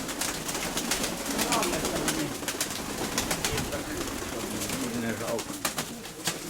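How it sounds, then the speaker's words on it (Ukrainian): Domestic pigeons coo close by in a loft, soft repeated throaty calls over a busy background of fluttering and shuffling, with faint speech nearby. "Ось така голубочка є."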